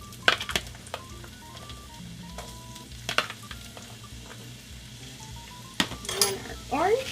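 Green and red bell peppers drop into a hot pan and sizzle steadily, with utensil clinks, scraping stirs and short beeping tones scattered across the frying.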